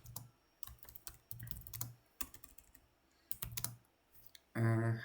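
Quick, irregular clicking of keys on a computer keyboard as a message is typed, close and fairly faint, ending in a brief loud electronic tone.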